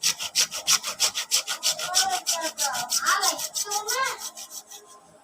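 A hand saw cuts material for a homemade phone stand in quick, steady back-and-forth strokes, about four per second, loud and close for the whole stretch.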